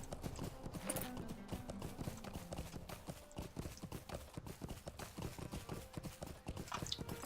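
Horse hooves clip-clop in a quick, steady rhythm as a mount is ridden in Lord of the Rings Online, close and faint, with a brief low whinny-like tone early on and no talking.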